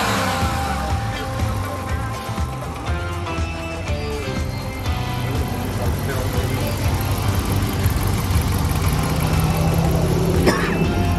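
The eight-cylinder engine of a 2019 Dodge Charger R/T sedan runs steadily, a low continuous rumble heard close with a faint rising whine near the end.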